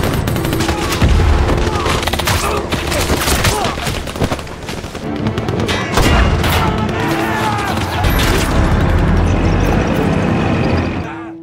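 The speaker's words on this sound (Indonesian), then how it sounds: "Li Xiang dan para pasukannya harus dihadapkan dengan tank-tank Amerika yang menembaki mereka" Heavy gunfire and booming cannon blasts from American tanks in a war-film battle, a loud, dense barrage of repeated shots and crashes running throughout with a few faint voices mixed in.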